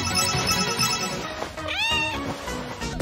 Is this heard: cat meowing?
yes